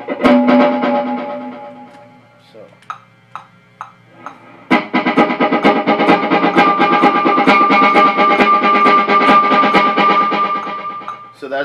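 Electric guitar through two stacked digital delays, one at a dotted eighth and one at an eighth note at 131 BPM, with sparse plucked notes echoing rhythmically before a dense, shimmering wash of repeats builds up.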